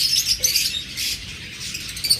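Pet lovebirds, budgerigars and forpus parrotlets chirp and twitter in a steady, busy high chatter, fairly close, with no voices.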